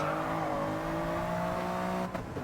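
A Toyota GR Yaris at the Nürburgring in a racing video game, its engine note sliding steadily downward as it slows hard for a corner, loud and close, ending with a brief thump near the end.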